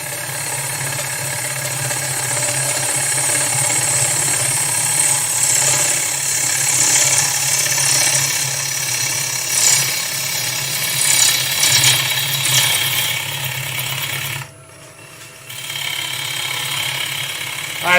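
A woodturning gouge cuts a small pass on spinning wood on a lathe, bevel riding the surface, giving a steady, loud grinding, chattering rasp that runs continuously, drops out briefly near the end, then resumes.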